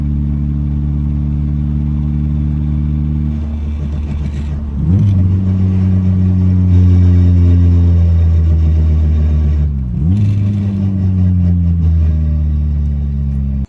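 A Nissan 240SX engine climbs through a full-throttle pull, a loud droning rev rising steadily, dropping sharply twice at gear changes near five and ten seconds before winding up again, heard from inside the car.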